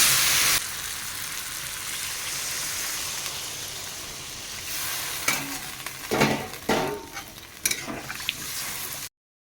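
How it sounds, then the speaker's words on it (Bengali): Water poured into spices frying in oil for a Bengali silver carp fish curry with potatoes sets off a loud hiss, which settles into a steady sizzle, with a few scraping stirs near the end. "এখন আমি জল দিয়ে দেবো"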